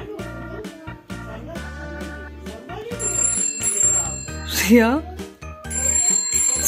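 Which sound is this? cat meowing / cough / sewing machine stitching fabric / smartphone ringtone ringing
smartphone ringtone ringing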